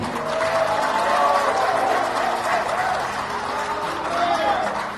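Audience applause at an Indonesian political gathering for Bintang Muda Indonesia, a steady wash of clapping from a crowd that holds level throughout, with murmuring voices mixed in.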